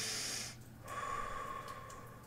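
A single slow, deep breath taken during a guided relaxation exercise, a soft airy inhale followed by a longer hissing exhale, quiet and close with no talk.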